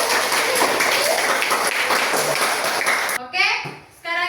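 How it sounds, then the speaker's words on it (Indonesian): A classroom of children claps their hands together in a lively burst for about three seconds, then the clapping stops abruptly and a voice speaks. "Tepuk tangan untuk kita semua hari ini."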